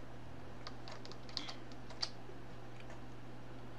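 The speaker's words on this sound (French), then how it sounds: "On va taper par exemple" Keys on a computer keyboard tap out a search term in a quick, soft run of clicks over a steady low hum, with a few sharper ticks near the end.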